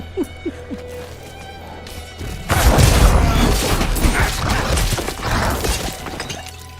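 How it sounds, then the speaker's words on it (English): The corpse explosion skill in the Diablo IV open beta erupts as a sudden, loud shattering blast over a low ambient drone, followed by a few seconds of scattered crunching debris. "Corpse explosion is so great."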